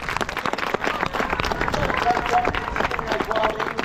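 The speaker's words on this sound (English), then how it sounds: "How about a big round of applause for Max today?" A crowd claps in a fairly loud burst of applause at a bird show at Healesville Sanctuary, with a voice speaking over it.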